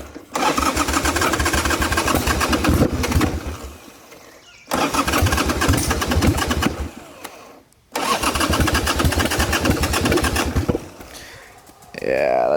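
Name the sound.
Harley-Davidson Ironhead Sportster motorcycle engine misfiring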